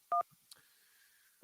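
Telephone keypad dialing tones on a radio call-in line: two short, loud DTMF beeps, a faint click, then a quiet pause before another tone cuts in at the end, with no talking.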